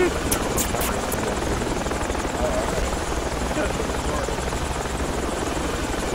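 A helicopter hovers in the military video game Project Reality, its rotor and engine making a steady, loud, continuous drone that fills the whole stretch, with voices talking faintly underneath.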